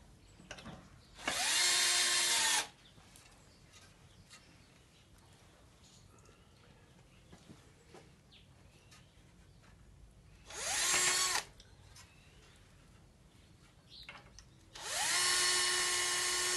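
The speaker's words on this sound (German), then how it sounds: "Ja, jetzt hat er die Bohrmaschine." A cordless power drill driving screws into a wooden batten, three loud close bursts of whining motor with quiet pauses between them.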